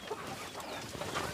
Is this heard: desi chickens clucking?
yes